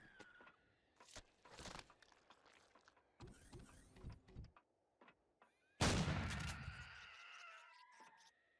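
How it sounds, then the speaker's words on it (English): Combat shotgun fired in the video game Empyrion Galactic Survival, mostly one loud, close blast with a long rumbling decay, preceded by scattered clicks, thumps and mechanical game sounds. "You can get a good headshot with the combat shotgun"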